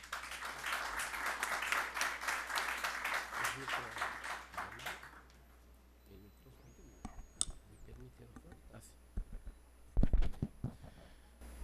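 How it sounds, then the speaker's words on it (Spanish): Applause at a formal agreement-signing ceremony between Peru's electoral jury and the national disability council, with dense clapping for about five seconds that breaks off, followed by faint room noise, scattered handling sounds and a few sharp knocks. "Le brindamos un fuerte aplauso."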